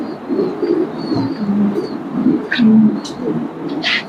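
Pigeons cooing at a pigeon seller's shop, a chorus of close, fairly loud low coos with a few higher chirps near the end.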